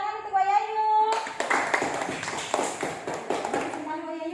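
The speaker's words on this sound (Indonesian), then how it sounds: "Tepuk tangan untuk Wayayu." Classroom clapping for a child's dance performance, a burst of quick, dense hand claps from a group of children lasting a few seconds, with a voice speaking before and after.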